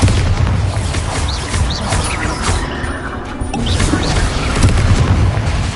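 A Bombarda explosive spell blast in Hogwarts Legacy, heavy booming impacts and crashing rumble filling the whole stretch, loud and continuous with layered thuds and debris-like clatter.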